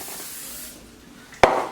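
Cooking spray misted onto a container lid for homemade pizza dough, heard as a steady close hiss for about half a second, a pause, then a sharp second burst of spray.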